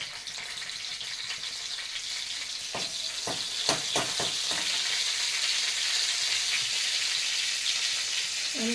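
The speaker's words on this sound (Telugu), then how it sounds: "హీట్ ఎక్కింది పోపు వేసుకుందాం వెల్లుల్లిపాయలు" Garlic sizzles steadily in hot oil as the tempering for an Andhra-style brinjal curry, a continuous bright frying hiss with a few sharp clinks of a spoon against the pan partway through.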